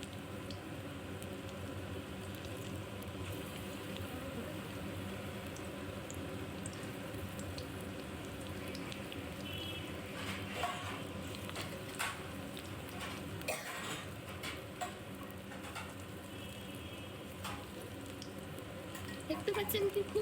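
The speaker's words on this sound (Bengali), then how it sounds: "এবার এই সজনে ফুলের বড়াগুলো আমরা তেলে দিয়ে ভেজে নেব" Moringa flower fritters frying in hot oil, a steady close sizzle and crackle with a few louder pops toward the end, running continuously throughout.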